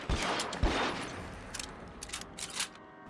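Rifle gunfire in the video game L.A. Noire, a few sharp shots near the start followed by quieter scattered reports and a low rumbling background of combat.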